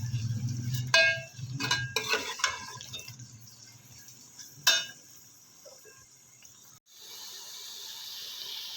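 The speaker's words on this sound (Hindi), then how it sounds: "इसमें हम डाल देंगे प्याज। बिस्मिल्लाहिर्रहमानिर्रहीम। इनको अच्छी तरह से फ्राई करेंगे" Onions sizzling in hot oil for chicken karahi, a steady close hiss with a few sharp crackles and spatters early on, then a fainter, even sizzle.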